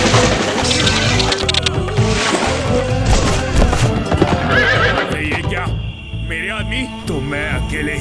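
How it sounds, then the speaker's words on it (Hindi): Cartoon horse neighing and whinnying over clip-clopping hooves in an animated adventure, loud and busy with music and effects throughout, with some voices briefly in the mix. "आओ आओ घोड़े, ढोलकपुर में आओ।"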